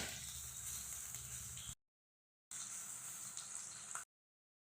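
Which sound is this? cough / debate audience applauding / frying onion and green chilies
frying onion and green chilies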